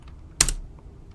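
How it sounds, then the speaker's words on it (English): A single sharp keystroke on a computer keyboard while a command is typed, close and quiet, standing alone against a low background hum. "I'm going to type in Python manage.py create super user."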